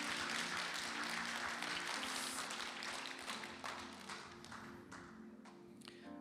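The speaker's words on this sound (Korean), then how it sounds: "우리 전심을 다하여서 하나님께 영광의 박수 올려드리도록 하겠습니다" A church congregation claps together during Sunday worship, a sustained wash of applause layered over soft musical tones that gradually thins and fades toward the end.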